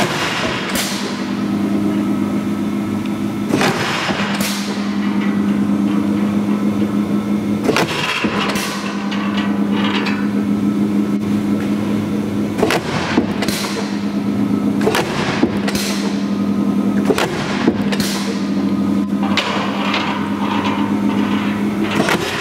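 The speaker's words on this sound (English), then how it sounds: "8 foot quarter inch Lodge and Shipley power squaring shear." An 8-foot, quarter-inch Lodge and Shipley Model 0408 power squaring shear runs with a steady loud motor hum, punctuated every few seconds by sharp heavy cutting slams.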